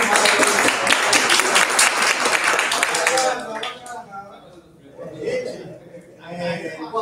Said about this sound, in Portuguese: Salva de palmas mais forte pra ele,